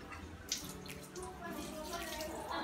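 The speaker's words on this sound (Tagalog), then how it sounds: "Sa karneng baboy naman guys, kailangan hugasan muna natin siya isa-isa." Raw pork pieces washed one by one under a running kitchen faucet, a steady soft rush of tap water with splashing, fairly quiet and continuous.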